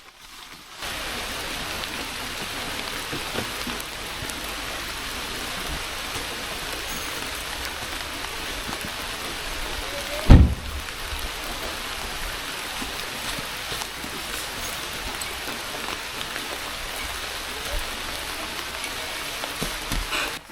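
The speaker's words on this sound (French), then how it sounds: "Il pleut." Steady rain patters continuously on a rooftop tent at a campsite, with one brief thump partway through and no voices.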